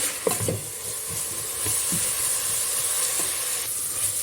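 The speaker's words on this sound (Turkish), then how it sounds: "Rendelemiş olduğum bir tane havucu da ilave edip ikisini beraber güzelce soteliyorum." Chopped onion and grated carrot sautéing together in a pan for rice and carrot chicken soup, a steady close sizzle and hiss with a few soft stirring knocks near the start.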